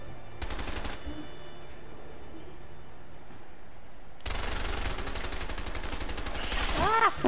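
Gunfire in the game A Way Out, a short rapid burst near the start and then a longer, louder sustained volley of shots building toward the end, close and sharp.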